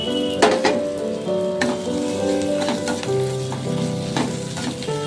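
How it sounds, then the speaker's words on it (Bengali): Chopped ginger and garlic fry in a pan over softened onion for a winter vegetable soup, giving a steady, close sizzle with occasional stirring scrapes throughout and no talk. "এটা একটু সামান্য একটু ভেজে নেবো।"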